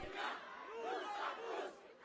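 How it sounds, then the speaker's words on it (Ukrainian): Pro-Palestinian protesters at a banned demonstration in Paris chant in unison, a dense crowd of voices rising and falling in rhythmic waves over about two seconds, steady and fairly close. "На цій пропалестинській демонстрації у Парижі протестувальники вигукували Ізраїль убивці"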